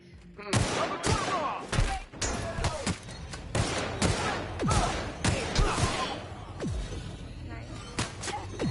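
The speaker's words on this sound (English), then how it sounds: "who's shooting at me?" Rapid gunfire in The Outer Worlds video game, with a dense series of sharp, loud shots and bursts in irregular rhythm over about nine seconds, with some voices mixed in.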